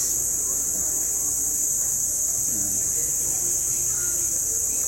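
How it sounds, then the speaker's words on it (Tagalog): Crickets chirp loudly at an outdoor pilgrimage site in Tarlac, a dense, steady high-pitched trill filling the whole stretch, with faint murmurs and distant activity underneath. "Tingnan naman kuliglig."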